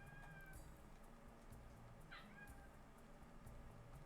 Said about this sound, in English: Cinnamon is trilling at some birdies, as Cat does.